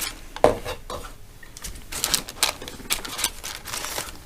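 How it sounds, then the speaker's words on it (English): A knife cuts chunks and layers from a block of ice cream, giving scraping strokes and sharp clicks as the blade hits the dish. The sounds are close and irregular, and no one speaks. "We're just going to make big chunks out of this and take layers to put on top of the ice cream sandwiches."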